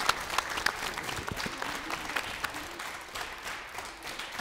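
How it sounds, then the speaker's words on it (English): An audience at a school event applauds as a middle and high school official walks out, a dense, even wash of clapping with a faint voice briefly audible underneath. "Let's give him a round of applause."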